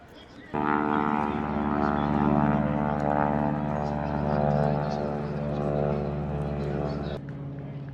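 A propeller biplane flying at an airshow, its steady loud engine drone with strong harmonic hum sweeping in and holding for several seconds before cutting off, with people talking nearby.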